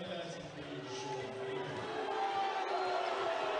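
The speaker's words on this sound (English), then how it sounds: "I'm sure you can hear how popular that is with the crowd here in the arena" Arena crowd at a Worcester Wolves vs Manchester Giants British Basketball League game reacting to a blocking foul call, a steady roar of voices that swells slightly toward the end, with a commentator talking over it.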